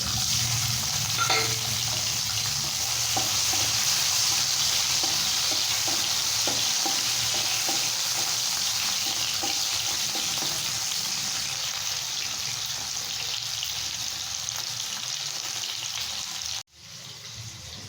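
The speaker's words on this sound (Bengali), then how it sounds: "এবার দিয়ে দেব কালো জিরে ফোড়ন। এরপর দিয়ে দেব কুচিয়ে রাখা টমেটো।" Chopped tomatoes hiss and crackle in hot mustard oil with nigella seeds in a kadai, a steady close sizzle with light stirring clicks running on continuously, then a brief dip near the end, and nobody speaks.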